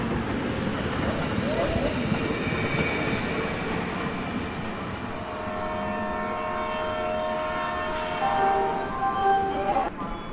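A train pulls into Ghaziabad railway station, its steady rumble and wheel squeal rising and holding close for about ten seconds amid platform bustle, with faint voices in the background.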